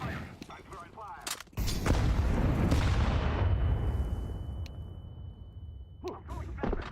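A Molotov cocktail is thrown in Counter-Strike 2. After a few sharp clicks comes a loud, sustained roaring whoosh of fire that spreads across the mix and slowly fades. Brief sharp shots and clicks follow near the end.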